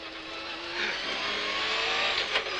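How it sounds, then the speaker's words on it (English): Colin McRae's 300-horsepower World Rally car engine revs hard on gravel-strewn tarmac at the Tour de Corsica, a close, steady high-pitched roar rising slightly in pitch over a couple of seconds. "let loose in Colin McRae's 300 horsepower World Rally car"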